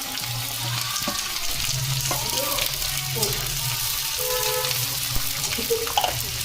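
Onions, green chillies and beans sizzle steadily in a pan, a close, continuous fry with occasional stirring scrapes and faint clinks throughout.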